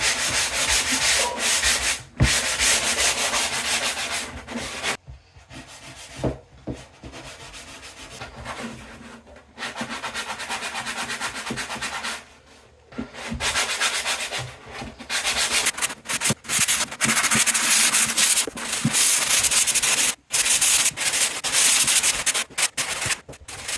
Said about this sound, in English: I'm going to sand it and I think it'll be done.